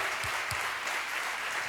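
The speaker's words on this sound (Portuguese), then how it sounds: "Vamos aplaudir Jesus" Applause from a church audience at a conference, a soft, even patter of clapping heard at a distance, with a couple of low thumps near the start.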